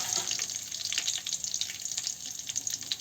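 Curry leaves drop into hot oil in a village kitchen pan where fenugreek seeds are already frying golden, giving a steady, close crackling sizzle throughout with no talk.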